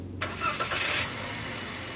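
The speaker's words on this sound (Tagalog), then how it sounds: "Start ko muna itong makina mga boss." A Toyota Avanza engine cranks and fires up in a brief burst, then settles into a steady low idle. The sound is close and loud at the start and holds even with no one talking.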